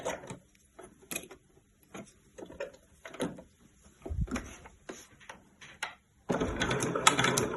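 A sewing machine stitches the base of a fabric weekender bag, with short bursts of mechanical stitching among clicks and handling, then a longer steady run of stitching at the end, close by with no talk.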